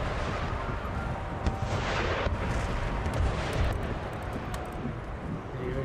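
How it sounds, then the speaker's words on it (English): Rockets launch in Empire Total War during a battle, a rumbling barrage of whooshing bursts over continuous battlefield noise, fairly loud and sustained, with a few crackling pops. "Rockets away."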